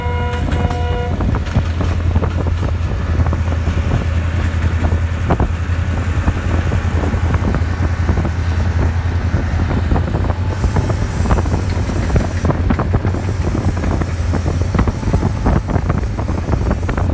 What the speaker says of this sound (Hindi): ये मेरी वो ट्रेन थी जो जिससे मैं अभी उतरा हूँ, शालीमार एक्सप्रेस 27 अब, और ये लाहौर जा रही है